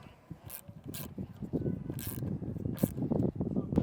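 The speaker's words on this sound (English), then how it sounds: "we can tighten these set screws down. So I just have a 1/8 inch Allen key." Set screws on a 2022 Grand Design Reflection fifth wheel RV slide-out awning bracket being run down with a 1/8 inch Allen key, heard as soft close metallic clicks and scrapes, with occasional bursts of hiss.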